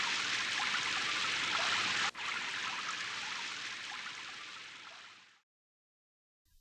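Steady, dense rain hiss in an animated children's cartoon, loud and continuous with a brief dropout, then fading and cutting to silence near the end.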